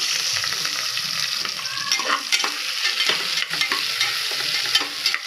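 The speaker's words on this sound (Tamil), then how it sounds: "ரெண்டு வெங்காயம் கட் பண்ணி வச்சுருக்கேன் அதையும் நல்லா ரோஸ்ட்டாக வறுத்துக்கலாம்" Two onions, sliced lengthwise, roast in a hot pan for Kerala kalathappam, with a steady, close sizzle and frequent scraping, clattering stirs throughout.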